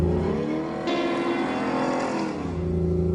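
A Ford F-150 Raptor SVT truck engine runs at a loud, steady roar, with the pitch rising and falling slightly as it revs.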